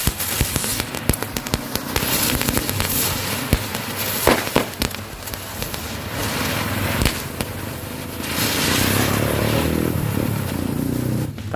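Sharp crackling bursts from a spinning ground firecracker set against a raw egg, followed by a steady fizzing, hissing roar as it whirls, loud and close.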